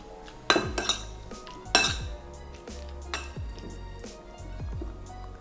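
Chicken is mixed with a pinch of salt, baking powder and sesame oil in a bowl, a utensil clinking and scraping against the dish in a few sharp knocks followed by softer stirring, close by with no talking.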